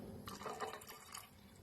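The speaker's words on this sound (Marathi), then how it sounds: "इथे पाणी ऍड करायचंय कुकरमध्ये" Water is poured into a pressure cooker while making kharvas, a sweet with melted jaggery, cardamom and nutmeg; a short, close splashing pour with no talk.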